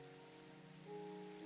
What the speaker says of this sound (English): Turns down the rain. The rain's a lot gentler.